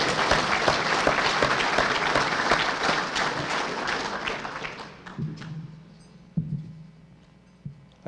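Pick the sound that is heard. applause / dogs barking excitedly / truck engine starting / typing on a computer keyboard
applause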